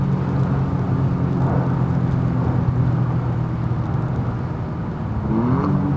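A modified Toyota GR Yaris laps the Nürburgring, its engine droning loud and steady from close by, with brief rising pitch sweeps as it pulls through the gears.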